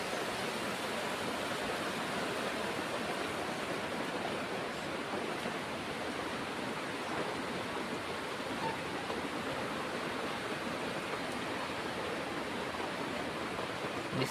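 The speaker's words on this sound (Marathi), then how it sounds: "इकडनं निघालेलं पाणी बघा किती होते खाली." A strong stream of water flowing out from a house in a village lane during a clean-up, producing a steady, close rushing wash of water that never lets up, with no talk.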